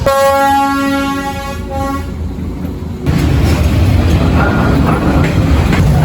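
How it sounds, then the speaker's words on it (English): At a level crossing in Hanoi, Vietnam, with the barriers down, a loud, sustained train horn blares for about two seconds, then gives way to the heavy rumble of a train passing close by. "they've just closed the barriers, which means I think a train is coming"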